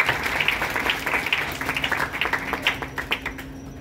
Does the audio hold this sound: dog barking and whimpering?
no